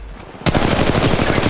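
Sustained automatic gunfire from a weapon in Apex Legends Mobile erupts loudly after a brief quiet moment, a rapid steady stream of shots that continues without pause to the end.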